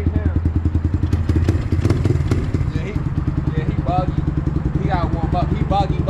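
A brand-new SSR 150 dirt bike engine idles with a steady, rapid thumping putter throughout, close and loud, while a voice briefly sounds over it in the second half.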